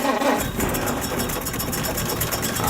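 Old car's four-cylinder 6-volt engine running steadily, a continuous loud mechanical rumble with uneven popping beats throughout.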